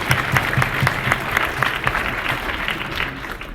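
Applause from a campus forum audience at SUNY Geneseo, steady and fairly loud, with rhythmic individual claps standing out in the crowd.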